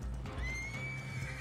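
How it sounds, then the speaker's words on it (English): A horse in a video game lets out a single loud, drawn-out neigh over a steady low background hum, with no voices. "My horse tried to kill him."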